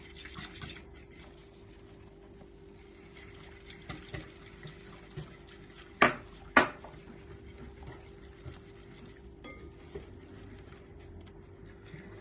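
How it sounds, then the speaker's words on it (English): Flour and cornstarch whisked into cold tempura batter in a bowl, faint soft stirring with scattered light clinks and two sharper metallic taps of the whisk against the rim. "we're going to whisk until we get a smooth consistency"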